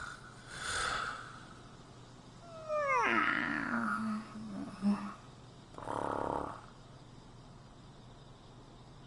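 Characters in the Persona 5 Strikers video game snoring while asleep, a few soft, breathy snores rising and falling at low level against a quiet game background.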